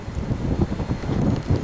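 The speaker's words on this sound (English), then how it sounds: "Oh my, it's windy." Gusty wind at Brighton railway station buffets the microphone with low rumbling thumps and rustling, uneven and close, with no talking.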